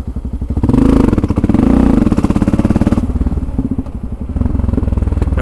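Motorcycle engine idling and rolling at low revs while lane-splitting between cars in traffic, a steady throbbing putter close by with a slight swell around the second second, continuous throughout.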